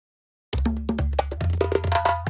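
A short percussive sample pitched up with Ableton Live's Shifter plays as a quick rhythmic run of bright, tuned hits after half a second of silence, close and dry, without talk.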